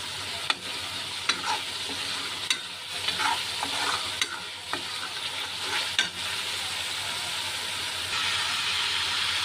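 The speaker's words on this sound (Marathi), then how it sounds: "आता याच्यामध्ये काशीफळ टाकलेलं आहे ते चांगलं मिक्स करून घ्यायचं" Pumpkin and spices are stirred in a hot pan, with a steady sizzle and periodic scraping clicks of the spoon, close and clear.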